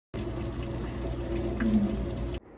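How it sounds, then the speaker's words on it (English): Melted cheese on top of a baked lasagna bubbles and sizzles in a steady, close, continuous wet crackle with a faint fizzing hiss, heard alone without any talk. "Did you see and hear that cheese bubbling?"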